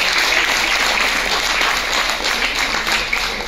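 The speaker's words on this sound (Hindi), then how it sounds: "जोर से ताली दीजिए प्लीज।" Steady applause from an audience, loud and continuous throughout without breaks, a dense wash of clapping with no voices standing out.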